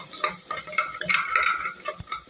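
Onions and tomato for vegetable biryani sautéing in a pan, with close, continuous stirring scrapes over a light sizzle and a few brief utensil clinks.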